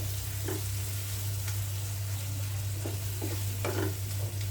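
Washed beef brains are stirred into a pan of spiced masala as they fry: a continuous close sizzle with a low steady hum, broken by several short scrapes of the spoon against the pan.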